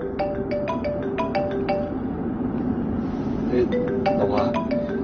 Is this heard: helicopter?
no